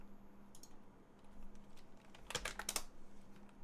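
Computer keyboard typing, the keyboard malfunctioning after water was spilled on it: a quiet, irregular patter of key clicks that thickens into a quick close burst of several strokes, alone over a faint hum.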